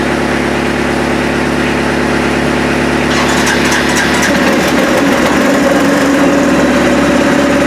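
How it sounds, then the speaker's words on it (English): A small cabin-side engine, its carburetor just primed, kicks into life partway through after cranking, then idles on steadily with a constant mechanical hum and rattle throughout, fairly loud and near, with no talking. "I really don't know if it'll start up or whether I got to go down by the carburetor and just prime it"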